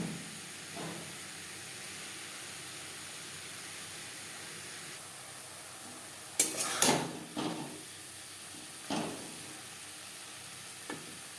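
Chicken vegetable soup ingredients being stirred and sautéed in a pan, a steady low sizzle running throughout with a few sharper scraping stirs near the end.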